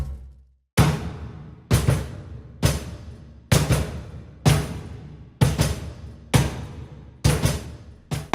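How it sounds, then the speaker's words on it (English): Heavy, booming drum hits land at a steady pace, roughly one per second, each with a long washy decay, played alone. "And then I layered that with heavier drums"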